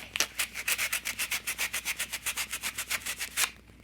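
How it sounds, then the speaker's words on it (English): Sandpaper rubs back and forth over a vintage paper tag in quick, even strokes, about twenty close raspy swishes in a steady rhythm that then stop. "just come in with your sandpaper and sand it off"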